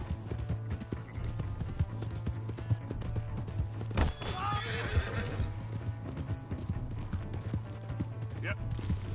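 A horse in the Red Dead Redemption 2 game whinnies loudly once, near the middle, amid clip-clopping hooves and background game sounds, with a brief second cry near the end.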